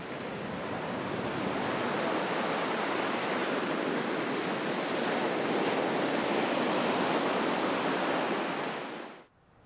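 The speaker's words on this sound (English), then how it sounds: "it is meeting the ocean water, and they are just colliding into each other right here" Ocean surf collides with stream water on a Kauai shoreline in a loud, unbroken roar of crashing, churning water that fades out abruptly at the end, with no voices.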